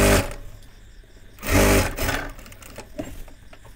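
A sewing machine stitches a child's panjabi in short close bursts, its motor whirring up loudly around the middle and then running more softly in quicker stretches, with no talking.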